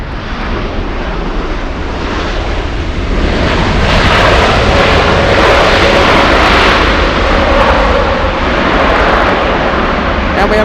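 Big United Airlines jet arriving at LAX from Haneda, a loud broadband engine roar that builds and stays steady, with a faint whine and talk over it.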